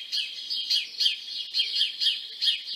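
Several birds give repeated sharp, high chipping calls in quick bursts, one after another in a loose rhythm, fairly close and clear against an otherwise quiet background.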